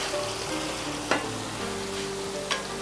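Chicken curry simmering in an uncovered pot, a steady close bubbling sizzle with two brief clinks of a utensil against the pot, no voices.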